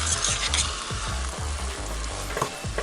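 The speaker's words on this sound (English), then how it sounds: "I'm gonna go ahead and mix in this beef with the onion" Ground beef and onion being stirred in a pan for spaghetti pie, a steady close sizzle with a regular rhythm of spatula scrapes and pushes throughout, no voices.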